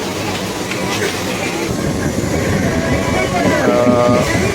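Steady rattling rumble inside a moving Mumbai local train, the clatter continuous and loud, with voices talking among the passengers.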